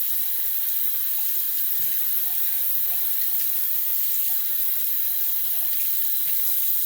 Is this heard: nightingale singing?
no